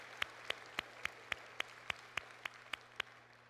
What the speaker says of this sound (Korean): 우리 영광의 박수 올려드리도록 하겠습니다.